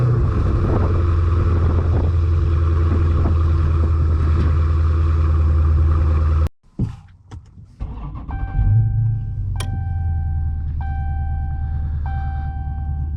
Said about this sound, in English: let's give you that startup sound,